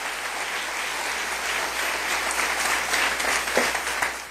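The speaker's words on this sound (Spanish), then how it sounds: "Denle un aplauso al Rey bendito, hermano." Congregation applauding during a church sermon, a steady, full round of clapping that carries evenly from start to finish.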